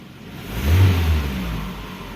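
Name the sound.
noisy Toyota Camry engine revving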